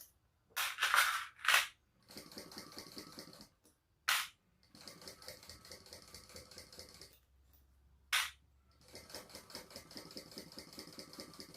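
A sewing machine stitching the pocket lining of a bag, quiet steady runs of rapid mechanical chatter separated by pauses, with a few sharp louder bursts of handling noise between stitching runs.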